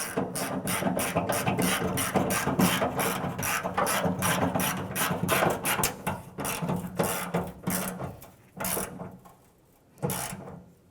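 A hand ratchet tightens a nut on the tailgate handle of a 1993-1997 Ford Ranger, clicking in rapid steady strokes that slow and break into separate bursts near the end, close up with no talking.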